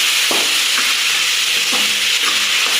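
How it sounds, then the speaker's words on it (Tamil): Tomatoes stirred and fried in a pot for beef biryani, a loud continuous sizzle and hiss broken by a few scraping strokes of a spoon, no voices. "அடுத்து இந்த தக்காளி பழம் 3 பெருசு ஒன்று, சின்னது ஒன்று எடுத்து 4 பழம். இதே நல்லா மிக்ஸ் பண்ணிக்கணும்."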